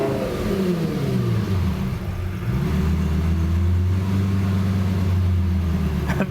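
A cheap Lamborghini that is being tuned revs up and drops back down, then settles into a loud, steady, droning engine note. The sound is close and continuous, with no talk.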